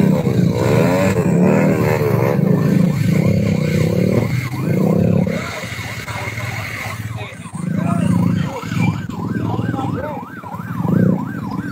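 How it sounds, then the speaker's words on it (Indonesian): Motorcycle engine running steadily and loudly near a vehicle in volcanic ash after the Semeru eruption, with a siren wailing alongside and voices talking over it. "Ini motor Bang Iwan pun."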